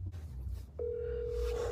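A steady phone dial tone hums through the handset after a brief click, continuous and moderately loud over low background rumble while a friend is being called.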